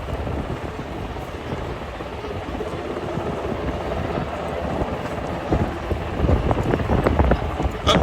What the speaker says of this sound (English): The helicopter's going to be rotating around here